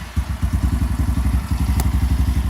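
A 2017 Venom X22 BD125-1 small 125cc motorcycle engine fires up and settles into a rapid, loud, even putter of thumping pulses, close by with no talk.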